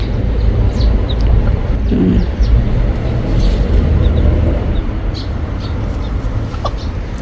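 Chickens cluck softly in a Thai vegetable garden in Korea amid a dense, steady background of rumble and noise, with occasional higher chirps scattered throughout.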